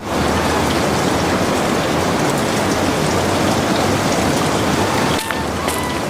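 Heavy rain pours as a loud, dense, continuous hiss with patter on surfaces, a cartoon sound effect; the wash briefly dips near the end before resuming.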